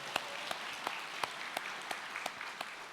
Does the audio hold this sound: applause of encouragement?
yes